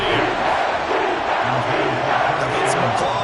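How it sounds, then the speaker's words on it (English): Stadium crowd noise in the American football video game Madden 24, a steady roar of cheering and applause after a defensive stop, with brief whistles near the end. "Some applause for the defense there."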